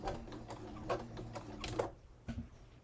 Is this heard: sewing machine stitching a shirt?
yes